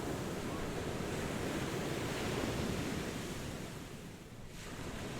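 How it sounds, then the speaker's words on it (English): Sea waves surging and washing in a steady, continuous roar, broadband and fairly loud throughout with a slight dip near the end, wind mixed in and no voices. "The sea is always moving."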